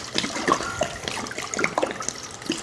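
Water is poured over wild black seaweed during food prep, a continuous close splashing and trickling sound lasting a few seconds with small bright drips, no talk.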